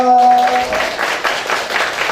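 Audience applause in a university lecture hall, soft scattered clapping from a crowd that follows a held tone and carries on steadily at moderate volume.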